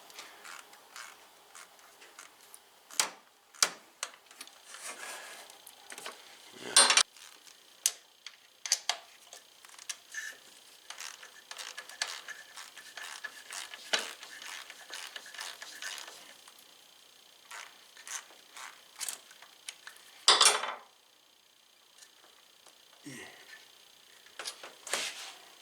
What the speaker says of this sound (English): you can get a 1/4 inch drive ratchet in there